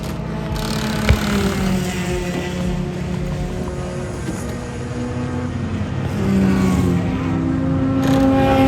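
Honda Civic race car in an endurance race at Thunderhill, its engine droning loud and close as it accelerates, with a brief sharp gear-shift blip early on and rising revs toward the end.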